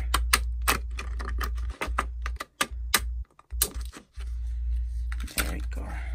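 Scissors cut card paper in a series of sharp, close snips and clicks in uneven bursts, with brief pauses between cuts over a low steady hum.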